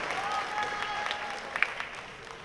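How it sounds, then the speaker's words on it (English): A crowd at a girls basketball all-star game applauds steadily in an indoor gym, the clapping fading gradually toward the end. "Keep clapping, keep clapping."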